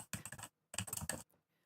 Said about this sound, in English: The only sound in the room was of Daru's fingers on the keys.